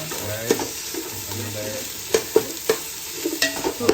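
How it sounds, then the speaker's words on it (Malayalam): Chicken fried rice with vegetables and egg is stir-fried in a pan in a home kitchen. A steady sizzle runs underneath while a utensil scrapes and clinks against the pan in irregular bursts. "അങ്ങനെ ചിക്കൻ ഫ്രൈഡ് റൈസ് റെഡി ആയിക്കൊണ്ടിരിക്കുകയാണ്"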